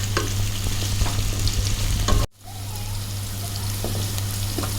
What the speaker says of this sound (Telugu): ఇలా 2 minutes ఫ్రై చేసుకొని తీసేసుకోవాలి